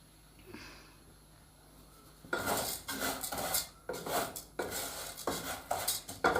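Vermicelli being dry-roasted without oil in a pan, with a spoon scraping and clattering against the metal in repeated stirring strokes, close and fairly loud after a quiet start.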